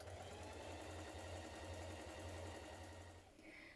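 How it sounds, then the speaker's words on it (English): A sewing machine runs steadily as it stay stitches around the back neckline of a long coat, a quiet, close, even mechanical whir that slows and fades near the end. "Now stay stitch around the neck on your back piece"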